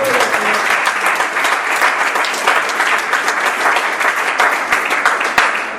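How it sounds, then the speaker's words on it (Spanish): A church congregation applauds at a Spanish-language worship service, a dense, steady wash of many hands clapping that holds loud and unbroken throughout. "Vamos a dar un aplauso al Señor."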